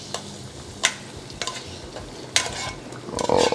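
A spoon stirs goat head caldereta in a pan, giving a few scattered scraping clatters against a steady low sizzle, with a brief busier burst of scraping at the end and no talking.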